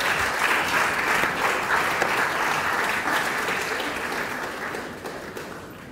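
Audience applause after a College of Engineering public lecture, a steady dense wash of many hands clapping that holds strong throughout and thins slightly toward the end.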